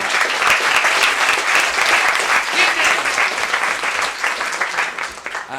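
Sustained applause from an audience, dense steady clapping that fills the whole stretch and dips slightly near the end.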